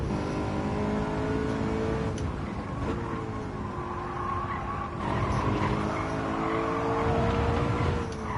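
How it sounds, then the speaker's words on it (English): BMW M3 engine in Gran Turismo 7 bouncing off the rev limiter, a steady buzzing drone with faint tire noise, with no talk. "and a rev limiter to top it off"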